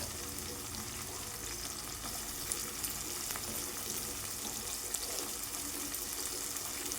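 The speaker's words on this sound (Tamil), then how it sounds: "கீரையை பொரிக்க போகிறோம்" Drumstick leaves fry in hot oil together with onion, garlic and dried chili, giving a steady, dense sizzle with occasional crackles and stirring, close and continuous with no talking.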